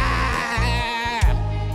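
A human voice imitates a sheep's bleat during a children's animal-sounds game, a wavering, nasal bleating call followed by a second, shorter bleat, close and clear.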